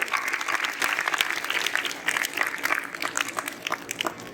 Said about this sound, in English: you applaud to them, yes.